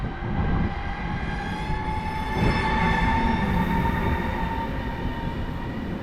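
A Griffin EU200 electric locomotive pulls a passenger train as it picks up speed, with a steady rolling rumble, whining tones and faint wheel squeal heard from nearby at moderate volume.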